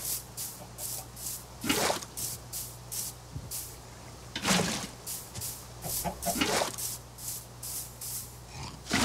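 Chickens in the Minecraft video game cluck in short, repeated bursts at a steady rhythm, fairly faint, with no voices in between.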